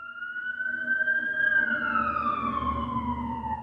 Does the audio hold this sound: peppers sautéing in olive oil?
no